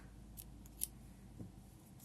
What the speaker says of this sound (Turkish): Hemen buradan makas yardımıyla